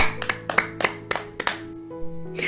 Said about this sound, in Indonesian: Mari kita tepuk tangan untuk teman kita Teresia.